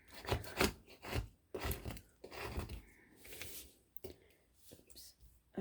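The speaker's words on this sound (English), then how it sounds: "I just use a scraper tool and just gently scrape across the mat" A handheld scraper tool is drawn gently across a cutting mat in short, quiet rasping strokes, several separate scrapes with small pauses, close and soft.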